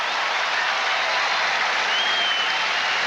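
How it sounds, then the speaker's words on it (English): Tennis crowd at the U.S. Open breaking into steady, dense applause, loud and continuous from start to finish with no break. "Brother Patrick on his feet, applauding his brother."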